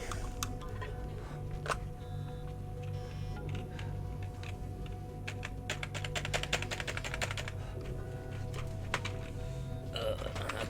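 Up close, someone handles and types on a computer keyboard during a Portal 2 practice session. Scattered key clicks and sharper bursts of rapid typing sit over a steady background hum, with occasional talk.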